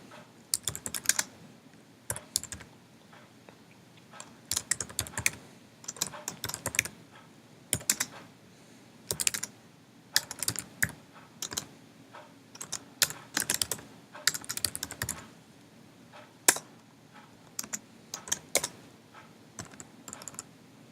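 Code being typed on a computer keyboard, steady close clusters of crisp key clicks in bursts separated by short pauses, with no voice over them.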